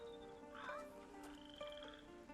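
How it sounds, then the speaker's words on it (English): Frogs croak steadily in a dusky countryside scene of the video game A Plague Tale: Innocence, a faint layered chorus of chirping calls with no talking over it. "What's that noise? Nothing. It's just frogs, Hugo."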